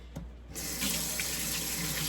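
Kitchen tap water gushing into a sink as messy hands are rinsed, starting after a brief quiet moment and then running steadily and close for the rest.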